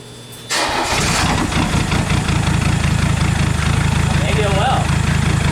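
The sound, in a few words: Mercedes 300SD diesel engine starting after glow plug cycle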